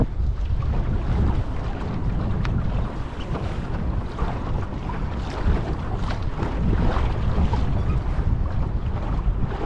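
Sailboat sail flapping in a strong breeze, wrapped in continuous heavy wind rush and hull and water noise, with no voices and steady loudness throughout.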